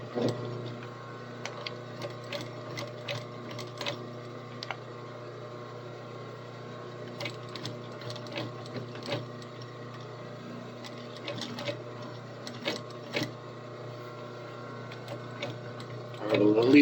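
Sewing machine stitching a seam with quarter-inch allowance on a bushcraft knife sheath, a steady whirring hum with faint rhythmic ticking, broken by short clicks and pauses, quiet and close, ending with a louder rustle.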